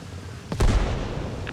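Incoming indirect fire lands in a military video game, a single heavy boom near the middle followed by a rumbling decay, with no talk.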